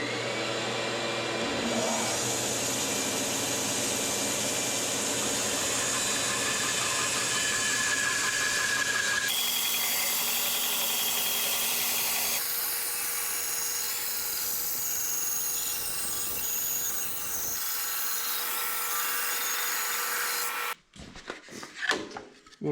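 Bandsaw fitted with a 3/4-inch, 3 TPI Timberwolf blade resawing wood, a loud continuous whir and cutting roar that shifts in tone partway through, then cuts off into a few scattered knocks and handling clatter.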